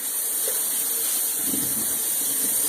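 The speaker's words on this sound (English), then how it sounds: "Take some cold water," Cold tap water gushes steadily into a pot for rinsing, a loud, close, continuous rushing stream with faint clinks under it and no talk.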